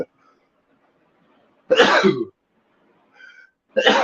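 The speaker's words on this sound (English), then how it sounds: "I gotta sneeze." A sudden explosive sneeze bursts out after near silence, followed by a faint voice and then another burst of sound.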